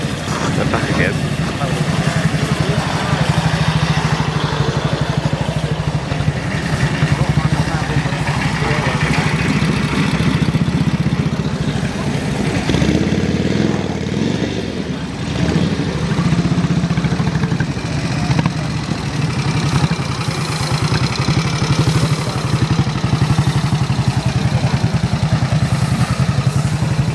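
Military motorbikes at a historical display event, engines idling and running loudly with a steady low rumble and clatter throughout, people talking now and then over the noise.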